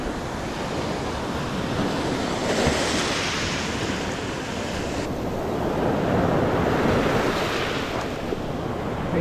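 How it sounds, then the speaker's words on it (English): Ocean waves wash ashore at Stumps Pass near high tide, a continuous rushing surf that swells and recedes, with wind buffeting the microphone and no voices. "We're getting closer to high tide now. Where I'm standing was just waves washing to me"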